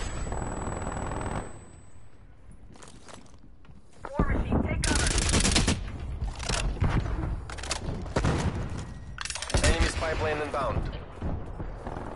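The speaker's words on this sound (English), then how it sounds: "Hostile sentry turret active." A hostile sentry turret firing in a video game: sustained rapid mechanical bursts that start after a quieter stretch and keep going loud and close, with game voices over parts of it.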